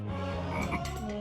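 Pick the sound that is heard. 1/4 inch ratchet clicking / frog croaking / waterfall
frog croaking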